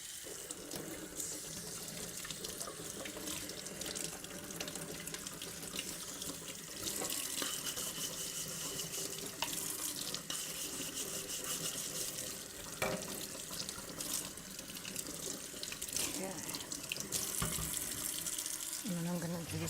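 Tap water runs steadily into a kitchen sink while a cutting board is washed, a continuous splashing hiss with shifting flow and occasional clatter as the board is handled.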